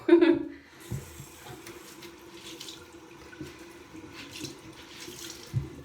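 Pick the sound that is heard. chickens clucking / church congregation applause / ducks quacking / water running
water running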